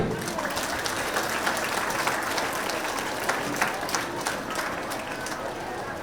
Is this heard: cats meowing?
no